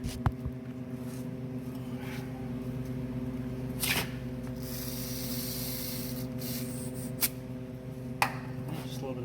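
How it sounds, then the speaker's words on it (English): Aerosol brake cleaner sprayed onto disc brake parts during a 1966 Cutlass disc brake conversion, heard as a soft hissing burst over steady background hum, with a few sharp clicks and knocks around it. "Just a little bit of brake clean."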